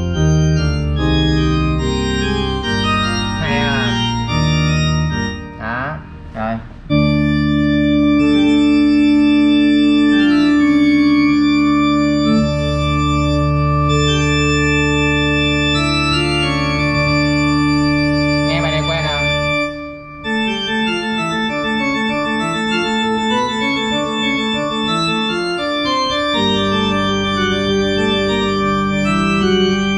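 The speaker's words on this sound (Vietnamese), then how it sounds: "coi tiếng organ nhà thờ xem làm sao. Organ nhà thờ nè, nhấn nút play." Church organ voice on a Kawai CA48 digital piano, sustained full chords with held bass notes and shifting harmonies played in a slow, continuous passage, loud and close with no speech.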